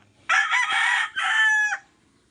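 A Kanaway rooster crows nearby, one loud drawn-out call broken into two strong bursts with a brief dip between, then trailing off into quiet.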